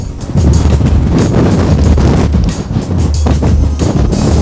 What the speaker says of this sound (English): Oh my god, it's so freaking windy.